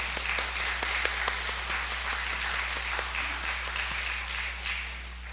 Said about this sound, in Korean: 하나님께 감사의 영광의 박수 올려드리겠습니다